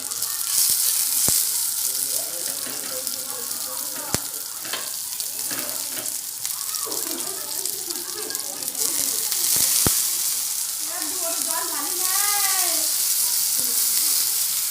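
Green chilli tempering for dhokla frying in a pan, a steady sizzling hiss with scattered crackles and sharp clicks, and a person speaking intermittently over the cooking.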